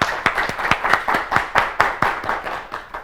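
An audience applauds young contestants at a televised children's competition in Ethiopia, with about a dozen loud, close claps in a steady rhythm over a short burst.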